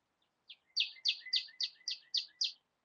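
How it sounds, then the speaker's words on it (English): A bird gives a quick series of about eight bright, chirping notes in a steady rhythm, clear and fairly close against silence. "Them the birds calling."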